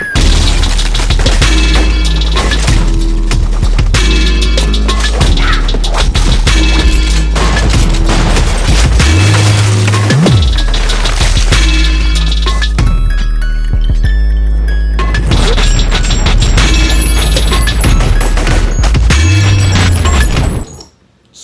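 Dense gunfire with shattering glass and booms from The Matrix lobby shootout scene, blended into a loud continuous mix with music, cutting off abruptly at the end.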